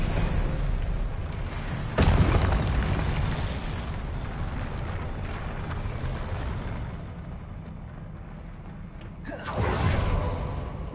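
Spell effects from Hogwarts Legacy play as loud whooshing bursts and booming impacts, with strong blasts near 2 and 9.5 seconds over a continuous rumbling bed, while a player shouts incantations.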